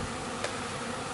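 Honey bees buzz around the bottom entrance of a small colony's hive, a steady close drone that fills the short moment without any voices.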